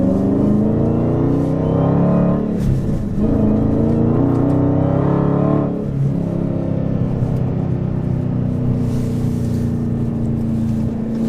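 Dodge Hellcat with an H-pipe and muffler delete rumbles loud and close under acceleration, its deep exhaust note rising and falling through a couple of surges before settling into a steady drone, with no talk.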